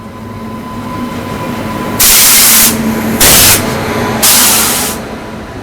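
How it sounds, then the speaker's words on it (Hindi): A Nagercoil–Trivandrum passenger train passes close alongside a halted train on a single-line section, with a low rumble under three bursts of loud hissing rush. "बगल से एक ये पैसेंजर ट्रेन आ रही है"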